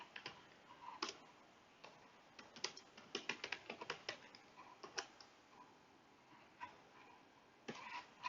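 Typing on a computer keyboard, a quiet, uneven patter of close key clicks, with some quick bursts and a few pauses.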